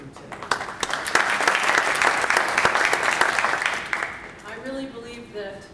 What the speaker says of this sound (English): You all need to give yourselves a round of applause for even being in this room today.